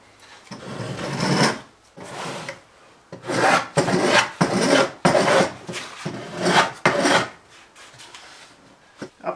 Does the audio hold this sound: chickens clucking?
no